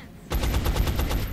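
A burst of rapid automatic gunfire in XCOM Enemy Unknown, about eight close, loud shots in quick even rhythm after a brief quiet start.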